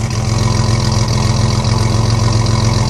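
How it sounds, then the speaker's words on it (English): A GM car engine idles with a choppy, uneven exhaust leaking through a holed exhaust system, a steady low rumbling pulse with a slight irregular lope, close and loud throughout. "The exhaust is a little choppy, but I'll let you hear it."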